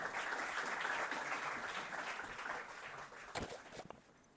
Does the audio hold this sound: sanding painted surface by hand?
no